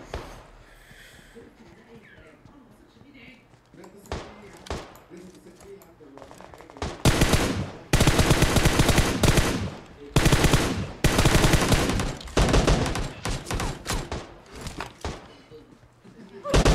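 Automatic weapon fire in the PUBG Mobile battle royale game, quiet at first, then long dense loud bursts of rapid shots with brief gaps between them.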